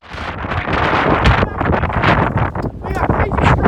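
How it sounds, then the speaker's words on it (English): Violent storm gusts of up to 65 mph batter the microphone in loud, rough, irregular roaring bursts that rise and fall over a few seconds, close and overwhelming. "We got crazy strong winds here."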